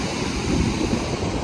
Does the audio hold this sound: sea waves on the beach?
yes